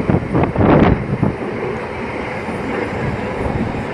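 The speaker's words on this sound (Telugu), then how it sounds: "మన ట్రైన్ వచ్చేసండి వ్యాండ్ర నుండి అయితే డిపార్ట్ అయిపోతుంది" Passenger train hauled by a powerful diesel locomotive pulling out of a station near Palakollu, a steady rumbling roar with a louder surge of rolling noise early on, close and continuous.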